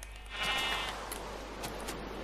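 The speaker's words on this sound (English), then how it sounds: "let me just beat up these sheep at the same time" A sheep bleats in the Minecraft video game, one clear, close cry lasting about half a second, followed by faint background noise.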